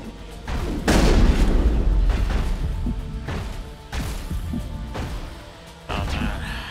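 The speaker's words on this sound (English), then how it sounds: "Let's try a grenade." Grenade explosions in the video game Mass Effect go off as heavy booming blasts, one big crash followed by several more loud bursts with rumbling tails.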